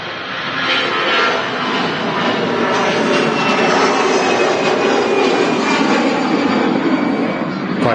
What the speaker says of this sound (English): Quite a few aircraft holding down the end of the runway.